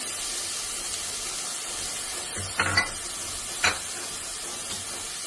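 Capsicum and carrot fry in a little oil with a low, steady sizzle, broken by a couple of brief stirring scrapes and louder hisses.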